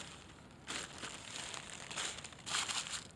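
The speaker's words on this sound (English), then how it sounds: "Crinkle it up." Wax paper crinkled up by hand for a coyote trap set outdoors, a steady crackling rustle in a few louder surges over about two and a half seconds, close and alone.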